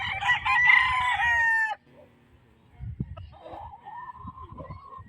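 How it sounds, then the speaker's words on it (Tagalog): A rooster crows loudly and close on a game farm in Barangay Paltok, Angat, among many chickens, then falls away to softer clucks and scattered low farmyard noises. "Daming manok mga boss, magkasawa kayo dito boss."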